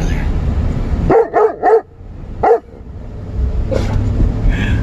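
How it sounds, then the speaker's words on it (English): A Doberman Pinscher barks playfully outdoors, a quick burst of three close barks followed by a single bark, then a faint yip, over steady background noise. "that bark of his is, hey, come chase me"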